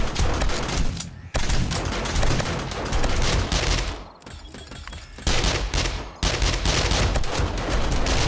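Automatic turrets blaze away at a zombie horde during a 7 Days To Die horde night, dense continuous bursts of rapid gunfire filling the scene, loud and close, with two brief gaps in the shooting.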